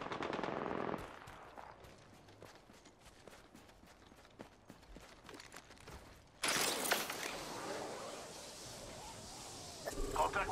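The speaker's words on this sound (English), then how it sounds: "I'm getting shot!" Video game gunfire, rapid repeated shots and impacts crackling through the first part, then a louder sustained burst of firing and noise, with game voices and a player talking over it.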